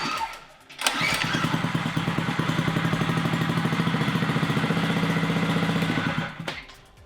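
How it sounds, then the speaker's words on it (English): An old mini bike's small engine is started and runs, catching with a sharp burst before settling into a loud, fast, steady putter for several seconds, then cutting off. "I said that the engine runs, and so I'm going to start it up real quick."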